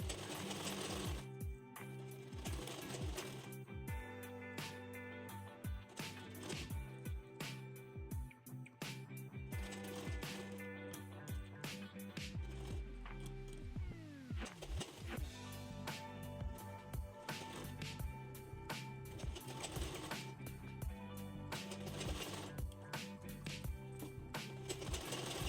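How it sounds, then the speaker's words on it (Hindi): A sewing machine stitching a blouse runs in close, rapid rhythmic bursts of needle chatter with brief pauses between runs, going steadily throughout with no talk. "अब यहाँ पर हमें सिलाई कर लेंगे।"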